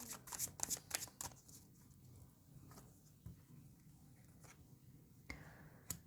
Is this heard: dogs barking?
no